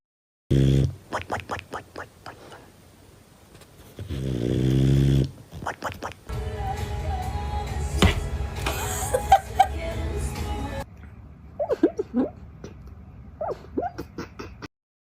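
A sleeping dog snores through a played recording, with rhythmic rasping breaths and a long drawn-out snore midway, followed by busier noise and scattered short sounds.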